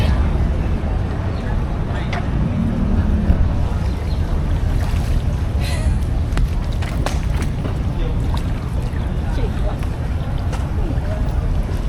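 A loud, steady longtail boat engine drone over Bangkok flood water, with wind buffeting the microphone and people speaking at times.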